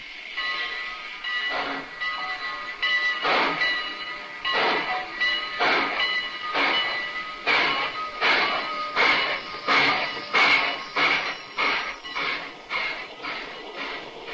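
A train rolls along the rails with a steady, rhythmic clickety-clack of wheels over track joints, continuous and moderately loud with no talking.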